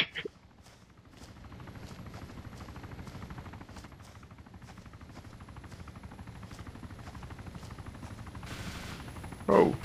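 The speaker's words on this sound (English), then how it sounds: "Oh, they're shooting." Rapid automatic gunfire in the online survival game DayZ, a long rhythmic burst of sharp repeated shots at moderate distance, with a brief louder noise at the very start and end.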